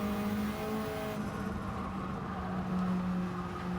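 A Jaguar race car in Gran Turismo 7 spinning its wheels, a steady droning engine note with a sustained tonal whine, held loud and even throughout with no talk.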